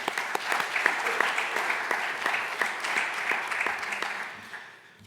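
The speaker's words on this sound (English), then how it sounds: "I would just like to say thank you and give you a round of applause for all your service" A conference audience applauds, a sustained, moderately loud spread of clapping with some distinct nearby claps standing out, holding steady before tapering off at the end.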